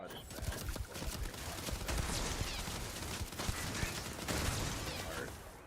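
Rapid bursts of gunfire from a poor-quality gun in the sci-fi game Starfield, dense and continuous across the whole stretch, with a voice talking faintly underneath.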